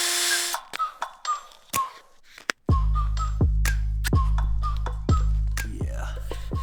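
A power drill drives a screw into a container, sounding in short whirring bursts and clicks, then settling into a louder run of repeated pulses, close and without speech.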